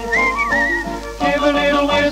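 Whistled melody of a Pinocchio song, a clear, tuneful whistle carrying the phrase over a musical accompaniment, with no voices.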